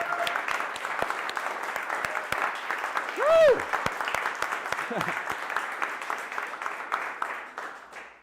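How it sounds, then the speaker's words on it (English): Meetup audience at a tech event in Vienna applauding, steady dense clapping for about eight seconds that fades at the end, with a whistle and a cheer rising from the crowd midway. "Give yourselves a round of applause."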